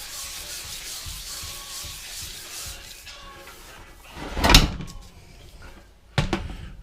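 Primer being sanded on a part from a 1979 AMF Harley-Davidson Sportster, a steady near scratchy rubbing through the first seconds, followed by two sharper knocks or bumps, one louder near the middle and one at the end.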